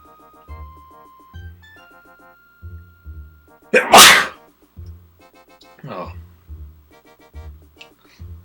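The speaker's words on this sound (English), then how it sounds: "oh, I need to sneeze. I should mute, but I didn't have time." A single loud, close sneeze bursting out over quiet background music from an Animal Crossing game session.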